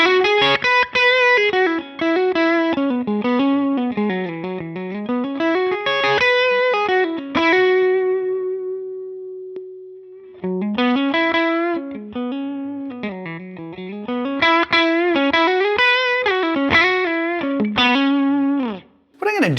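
Electric guitar runs through a Line 6 Helix amp model with the bias lowered to zero and the master on 10, playing distorted, chorus-tinged melodic phrases that sustain one held note, then resume loudly with no talking.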